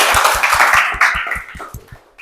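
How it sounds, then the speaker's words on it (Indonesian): Classroom students clapping together in rhythmic unison, about ten sharp synchronized claps in a steady beat over a background of scattered applause, fading out at the end. "Betul ya, tepuk tangan dulu dong"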